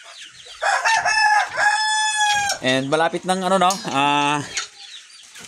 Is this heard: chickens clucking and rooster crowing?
yes